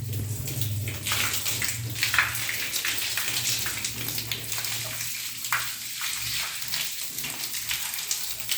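Water from a hose splashes and spatters across stone stairs during washing, a continuous close hiss with uneven patters and a steady low hum underneath.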